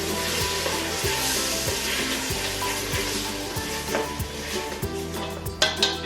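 Vegetables for butternut squash soup crackle and sizzle in a pan after a splash of vegetable stock, with steady hissing and regular scraping strokes of a spoon stirring, plus a few clinks near the end.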